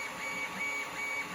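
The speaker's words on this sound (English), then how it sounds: "We've got that on the printer now" A 3D printer laying down PLA filament for an HO scale steam engine kit part, a steady, even mechanical whine and hum with faint stepper tones, heard alone throughout.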